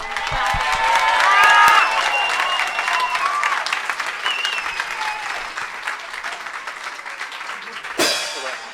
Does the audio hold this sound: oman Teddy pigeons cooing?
no